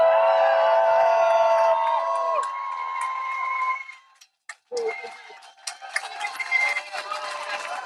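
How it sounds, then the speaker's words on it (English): A crowd at an outdoor rally in the rain cheers and whoops loudly, with voices rising and falling. The noise drops out briefly, then returns as a busier mix of shouts and applause. "Let's just give a huge hand of applause as if they can hear us in Chelmsford and in their prisons"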